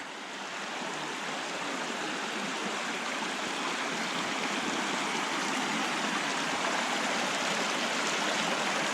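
Steady rushing of Allen Creek flowing over rocks in Glacier National Park, Montana, a continuous broadband babble close by, with no voices.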